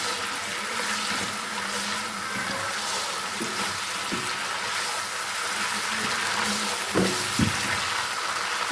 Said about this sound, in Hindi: मिर्चों को मैं थोड़ा सा फ्राई कर लूँगी